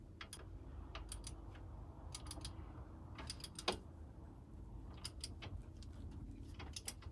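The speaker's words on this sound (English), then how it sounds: "Now with two 18mm sockets you can tighten up the bottom ball joint" A ratchet with two 18mm sockets tightens a bottom ball joint bolt on a 2007 Vauxhall Astra H 1.3 CDTI, giving quiet bursts of rapid clicking over a low steady background.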